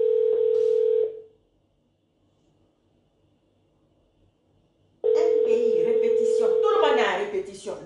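A telephone dial tone sounds loud and steady for about a second, then silence for several seconds, then the tone returns under muffled background noise and faint voices.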